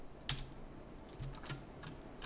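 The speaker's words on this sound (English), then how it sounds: "hit insert on the keyboard" Several quiet clicks from computer keys pressed one at a time, a few distinct taps spread over a couple of seconds against soft room noise.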